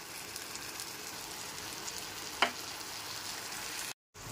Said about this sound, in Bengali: গ্যাসের ফ্লেমটা লোতে রেখে পেস্টটা খুব ভালো করে কষিয়ে নিতে হবে।